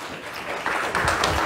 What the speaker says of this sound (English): Y'all give God a hand clap of praise this morning.